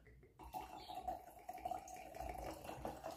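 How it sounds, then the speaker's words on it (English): A mimosa being poured into a glass makes a steady, close liquid trickle that starts abruptly and runs continuously, fairly quiet, with no talking over it. "I'm about to pour myself a drink."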